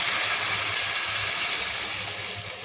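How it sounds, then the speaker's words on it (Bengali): Water poured into a pot of browned chicken curry, a steady loud hiss and splash of liquid that runs without a break and eases slightly at the end. "চিকেন কষা হয়ে গিয়েছে এবার পানি দিয়ে দেবো"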